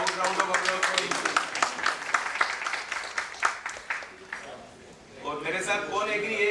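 A round of applause at a Lions Club district meeting, with a crowd of hands clapping in a brisk rhythm that fades out after a few seconds, followed by a voice speaking.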